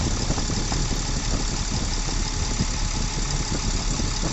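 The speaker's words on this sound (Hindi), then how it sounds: "इंजन का आप साउंड सुन लीजिए काम होने के बाद का" An engine idles steadily right after repair work, a close, even, continuous rumble with a fine rapid pulse and no voices.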